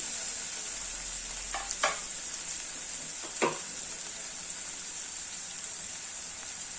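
Capsicum-stuffed eggs frying in a pan, a steady crackling sizzle with a high hiss throughout, broken by a few sharp utensil clicks, no voices.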